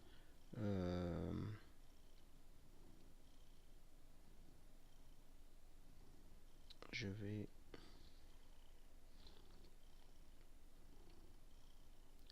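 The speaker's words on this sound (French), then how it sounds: "Si t'entends ronronner, c'est mon chat." A pet cat purring in bursts near a microphone, two short rumbling stretches under a quiet room with people talking in French.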